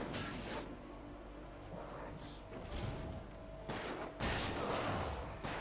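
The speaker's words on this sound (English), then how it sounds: "Stop shooting that one." Gunfire from a companion character in Alan Wake, several loud, close shots and thuds spaced irregularly across a few seconds, with a sharp burst near the end.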